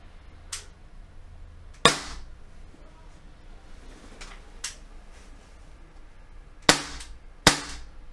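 An airsoft 1911 handgun fired in sharp, separate snaps, about five shots at uneven intervals, close and crisp against a quiet background.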